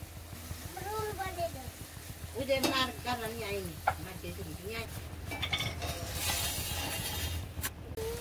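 Food fries in oil in a home kitchen, prepared as a puja offering. A soft sizzle runs under someone talking, then grows into a louder, steady crackle near the end.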